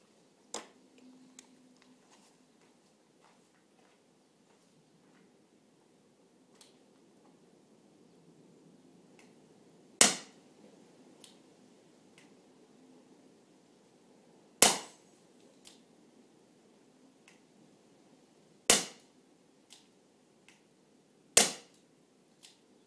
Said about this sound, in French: c'est reparti pour une série de tirs